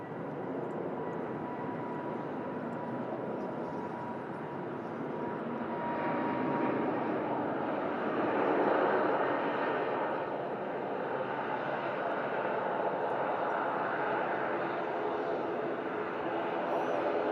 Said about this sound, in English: First prop of the show as well. Aer Lingus ATR 72. Coming in from Dublin.